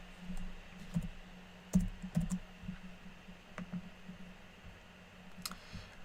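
Typing on a computer keyboard, faint sparse key clicks in small clusters over a steady low hum, quiet and close, no voices.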